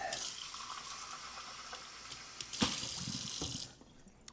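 Water runs from a tap as coffee equipment is rinsed, a steady hiss of flow with a brief clatter midway before it tapers off near the end.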